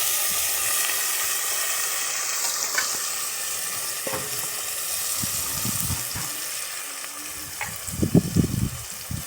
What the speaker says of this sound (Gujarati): નાખી દીધું છે રાઈ પછી નાખ્યું જીરું પછી નાખી હિંગ એટલે કે વઘાણી અને પછી નાખ્યો મીઠો લીમડો અને હવે નાખ્યું કંટોલા